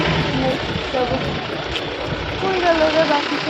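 A vehicle engine idles steadily near a beach in Puri as passengers climb aboard, a continuous low rumble with background voices and chatter mixed in throughout.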